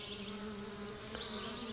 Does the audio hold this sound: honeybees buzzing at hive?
yes